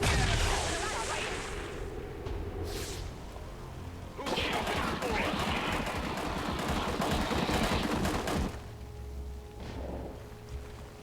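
Gunfire in the turn-based tactics game XCOM 2, with dense rattling bursts and heavy blasts over a constant game soundscape, loud and sustained for several seconds, then easing into quieter ambience.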